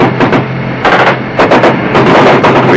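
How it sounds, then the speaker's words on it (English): Heavy bursts of gunfire from a riverbank during a 1968 river patrol action. Loud, close, rapid machine-gun volleys come in several separate strings with brief gaps between them, and no voices are heard. "Return fire from the riverbank indicates a larger force supporting the crossing."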